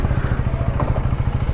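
Motorcycle engine running steadily and close during a test ride after a wash, with a deep, continuous rumble and a rhythmic low pulse throughout, no talk.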